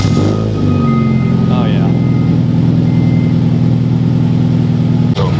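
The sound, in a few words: 2009 car engine starting up and idling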